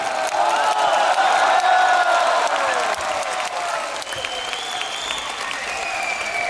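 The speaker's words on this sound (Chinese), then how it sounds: "再次掌声送给岳云鹏、孙越和德云社的相声演员" Theatre audience applauding Yue Yunpeng, Sun Yue and the Deyunshe crosstalk performers, a loud, dense, sustained wash of clapping that eases slightly after a few seconds, with a faint voice or whistle-like tone over it.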